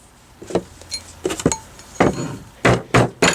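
A silver ring on a steel mandrel is struck with a hammer through a glued-on cap, giving about eight sharp, close knocks in an uneven rhythm.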